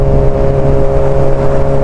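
A Suzuki GSX-R600 motorcycle engine runs at low revs, a steady, loud, close mechanical drone with a firm tonal hum and no talking.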